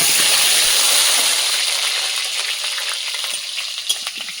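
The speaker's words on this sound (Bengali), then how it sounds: "একটু লবণ আর হলুদ দিয়ে আলুটা ভেজে নেব।" Potatoes sizzle loudly in hot oil, seasoned with salt and turmeric on a new clay stove, a dense frying hiss that eases slightly as it goes on.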